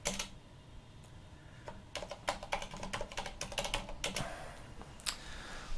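A terminal command being typed on a computer keyboard, with quiet clicking keystrokes that come in quick irregular runs and speed up toward the middle, with no talk.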